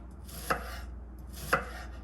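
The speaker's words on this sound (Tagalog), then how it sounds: "ganyan yung proper paghiwa ng onion para pag chop nyo siya ng pa-square, hindi kayo mahirapan" Two crisp knife cuts through an onion on a cutting board, about a second apart, each a short sharp tap with a brief slicing rasp, close and clear over a steady low hum.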